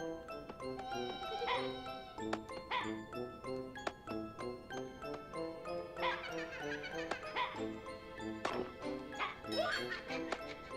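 A big dog in the video game Tomba! 2 barks repeatedly in short yips and woofs. Jingly tinkling game music with a bouncy rhythm plays alongside it, fairly quietly and without talk.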